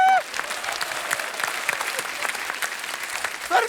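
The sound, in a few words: studio audience applause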